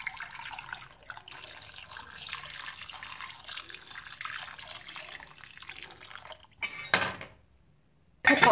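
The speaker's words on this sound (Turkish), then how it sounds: "Üzerine de geçecek şekilde şöyle suyumuzu ilave edelim." Water is poured over potatoes in a cooking pot. A steady, moderate rushing pour lasts several seconds, then a few short clanks of the pot follow, with no voices.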